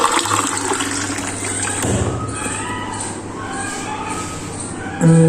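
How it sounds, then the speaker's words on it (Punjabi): Water is poured into a glass for making tea, a short splashing fill followed by a clunk and a few softer clatters close by. "ਇਹਦੇ ਲਈ ਆਪਾਂ ਪਾਵਾਂਗੇ ਅੱਧਾ ਗਲਾਸ ਪਾਣੀ"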